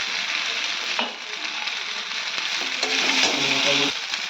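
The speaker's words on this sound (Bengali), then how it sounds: "ভালো করে নাড়াচাড়া করব।" Food being stirred and turned in a hot frying pan with pepper powder added, a steady bright sizzle throughout with soft scraping movements and a slight swell toward the end, no talking.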